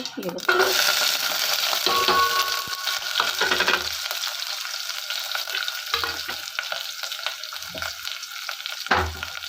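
Tempering for a ridge gourd and lentil sambar sizzles and crackles steadily in a hot pan, a loud continuous fry with occasional stirring clinks and scrapes, no talking.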